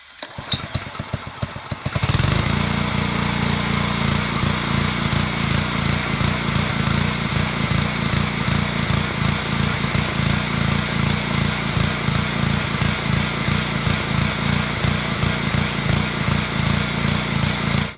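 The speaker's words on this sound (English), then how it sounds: "The RPMs are going up and down like that." A small pressure washer engine runs loudly and steadily, its revs rising and falling in a repeating surge after a brief quieter start.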